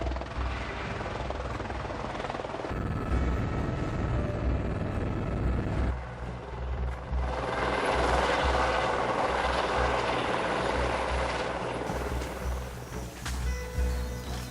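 Helicopter flying in over the bush to a lodge helipad on a private conservancy in Kenya, a loud, continuous rotor thrum and turbine whine that shifts in tone as it nears and descends.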